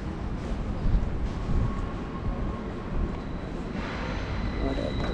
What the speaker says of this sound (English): there is, an old train, old train,